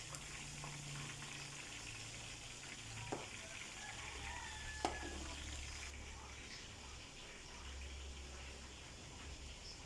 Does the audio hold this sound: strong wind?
no